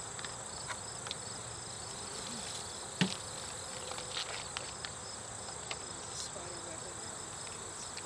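Honey bees hum steadily at a hive entrance fitted with a new mouse guard, a dense continuous drone with a few soft taps and clicks, close and fairly quiet.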